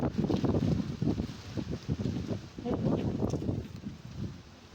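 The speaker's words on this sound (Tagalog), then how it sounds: "Sobrang lakas ng hangin." Strong typhoon wind buffets the microphone in loud, rumbling gusts that rise and fall continuously over crops and fruit trees, with no voices.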